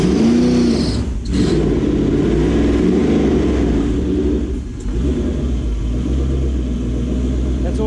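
A Toyota 1UZ-FE V8 jetboat engine runs steadily with a deep rumble and occasional revving swells, close by and continuous throughout.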